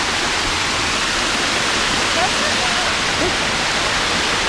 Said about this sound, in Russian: Смотрите, какой водопадик.